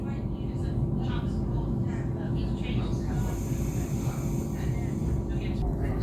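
Transport for Wales Class 231 FLIRT train in motion toward Barry Island, continuous rumbling interior running noise with a voice speaking over it.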